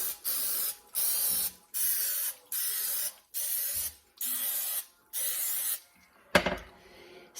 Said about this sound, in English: so I'm just gonna spray 8 things